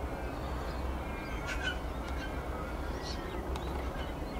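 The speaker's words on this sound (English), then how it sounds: "I love the sound of the birds." Scattered bird calls, a few short chirps and caws, rise over a steady rumbling background of distant traffic.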